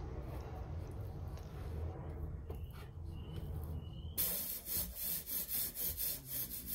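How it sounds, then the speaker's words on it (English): A toothed spreader scrapes glue across a boat's deck surface, a faint scraping under low background noise that turns into a quick series of rhythmic back-and-forth strokes near the end. "I spread the glue on the deck surface, moving it around and evening it out with a toothed spreader."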